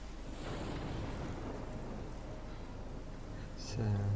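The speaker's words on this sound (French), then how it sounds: "Cette tempête est assez violente." Rain hisses steadily through a storm in the Life is Strange video game, with a low rumble swelling near the end, while a voice speaks over the top.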